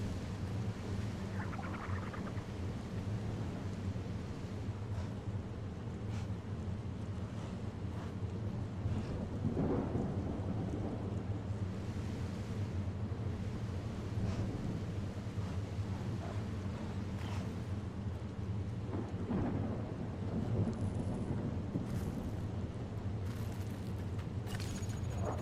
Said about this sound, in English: get away from the rain, the lightning